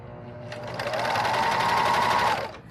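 A sewing machine stitches pillowcase pieces, three layers at once, with a steady, close, loud whirring run that builds, holds for about two seconds and then stops.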